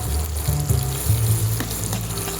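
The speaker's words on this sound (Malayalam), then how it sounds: "പിന്നെ നമ്മുടെ തേങ്ങ, ഇതെല്ലാം കൂടെ ഒന്ന് ഫ്രൈ ചെയ്യാം" Grated coconut and spices fry in a hot pan with a steady, close sizzle and occasional stirring scrapes, with no voices.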